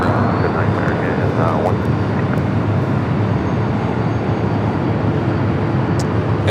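Jet aircraft roar steadily at Los Angeles LAX airport, a loud broadband rumble filling the whole stretch, with faint radio chatter mixed in.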